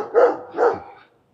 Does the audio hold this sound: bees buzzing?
no